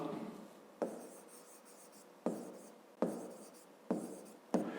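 Pen or pencil writing numbers on paper, with quiet scratchy strokes broken by several sharp taps as the tip lands, close and alone.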